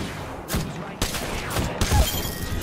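Gunfire in the Apex Legends battle royale game: several sharp bursts of shots about half a second apart, with clattering impacts between them, close and fairly loud.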